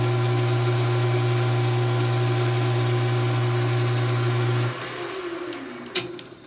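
A power tool runs with a steady, loud mechanical whine while taking the edge off a tenon of a Danish-style wooden tobacco pipe, then winds down and stops, leaving a faint knock near the end.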